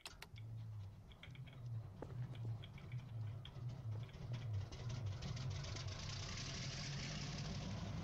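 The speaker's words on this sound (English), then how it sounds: "You now have an engine that works." A diesel locomotive engine in a train video game starts up and settles into a low, steady idle, with a rhythmic chugging pulse and faint clicks over a quiet background.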